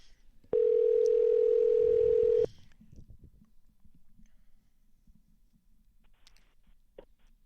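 A single steady electronic telephone ring tone sounds for about two seconds, followed by faint line noise and a couple of soft clicks.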